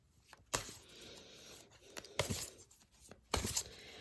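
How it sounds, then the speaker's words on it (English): Playing cards are riffled in three quick bursts, each a crisp, papery flutter separated by quieter handling sounds. "I love the way this deck shuffles"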